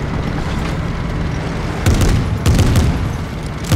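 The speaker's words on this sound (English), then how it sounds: "gunshots this way" Gunshots in Fortnite during a random squads match: after a steady background hum, a couple of bursts of loud cracking shots break in, followed by another shot at the very end.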